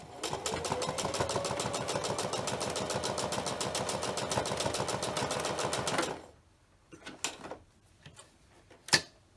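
Close, steady rapid stitching from a sewing machine running along the tucked edge of a fabric pleated pocket mask for about six seconds, then stopping, with a few faint clicks and knocks afterward.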